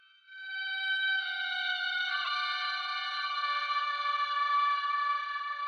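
Violin-like synth tone from a Solar 42 synthesizer's effect signal alone, a sustained bright harmonic drone that swells in near the start and holds steadily at even loudness.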